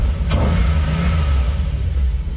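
A car engine rumbles low and steady as the vehicle is driven into a parking spot, with a brief click near the start and no voices.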